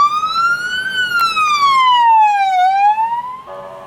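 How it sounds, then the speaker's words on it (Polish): An emergency vehicle's siren wailing close by in traffic during a driving lesson, a loud continuous tone sweeping slowly up and down in pitch, then shifting to a faster pattern near the end, with no speech. "bo jedzie pojazd przywilejowany"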